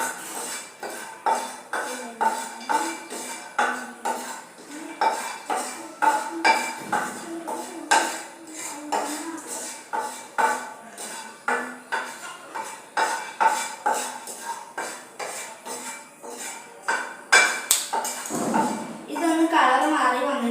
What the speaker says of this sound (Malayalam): ഇതേ പാനിൽ തന്നെ നമുക്ക് അണ്ടിപ്പരിപ്പ് ഒന്ന് ചൂടാക്കി കൊടുക്കാം.